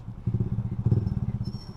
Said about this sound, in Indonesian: Karakter suara knalpot itu gue suka banget sih.